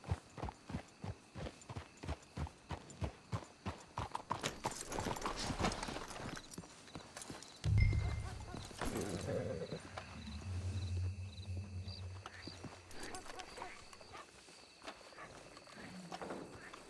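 Rhythmic hoof clip-clops of horses walking in the video game Red Dead Redemption 2, fairly close, then a heavier rumbling passage with low tones and faint ambient noise.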